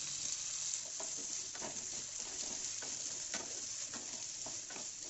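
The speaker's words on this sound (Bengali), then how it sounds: "একটু ভেজে নেব আলুগুলো" Cut potatoes frying in a pan for a dry carrot, pea and potato sabji, giving a steady hiss of sizzling oil broken by scattered soft clicks and scrapes from stirring, close and continuous.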